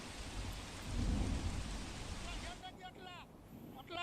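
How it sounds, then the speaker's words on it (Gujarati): Heavy unseasonal rain pours during a rainstorm in Gujarat, a dense close roar with deep rumbling thunder swelling in the middle; a voice briefly speaks near the end as the downpour continues. "તમામ જગ્યાઓ પર વરસાદ છે"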